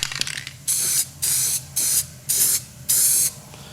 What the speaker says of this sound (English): I'm going to go spray this real quick.